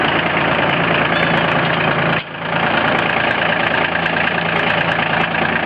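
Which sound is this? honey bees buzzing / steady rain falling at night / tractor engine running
tractor engine running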